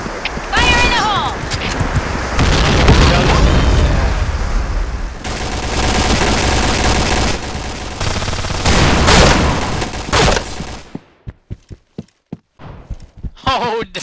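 A grenade goes off in the online shooter Project Blackout during a clan match, with gunfire and a dense burst of combat noise. Players talk excitedly over it, and scattered sharp shots trail off at the end.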